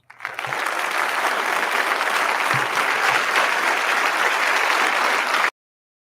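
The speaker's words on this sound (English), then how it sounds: "We're going to give everybody a great big applause for this one." A studio audience breaks into sustained applause for a good-news story, dense steady clapping with a few cheers that holds at an even level for about five seconds and then cuts off abruptly.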